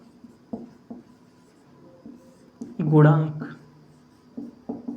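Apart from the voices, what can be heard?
writing on the board during a physics lesson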